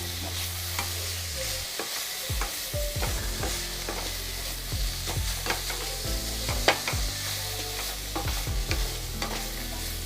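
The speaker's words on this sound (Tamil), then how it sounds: "வெங்காயம் நல்லா வதங்கட்டும்." Onions sauté in a pan for tomato kurma, sizzling steadily up close while a spatula scrapes and knocks against the pan in repeated strokes; a low hum runs underneath and nobody speaks.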